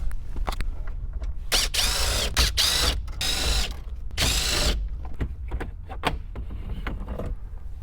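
A ratchet removes 7mm screws from the radio module of a Ford F150, close up: quick clicking cranks alternate with several longer buzzing ratchet runs, and small taps and handling clatter fall between them.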